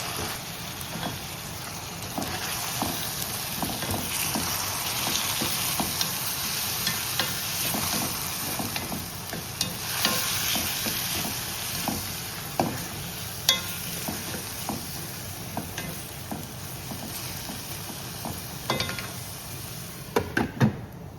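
Onions frying in a pan with finely chopped tomato, a constant close sizzle and crackle with spoon stirring scrapes and occasional sharper taps near the end.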